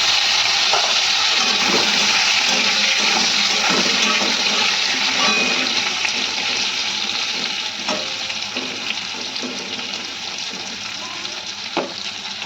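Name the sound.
boiled potatoes frying in mustard oil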